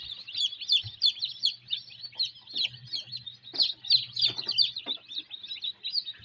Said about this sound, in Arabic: برضه معاك كتاكيت طالعه هنا اهي